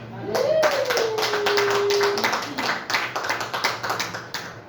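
A church congregation bursts into sustained applause, many hands clapping close and loud in steady rhythm, with a rising whoop over the start and a few voices mixed in.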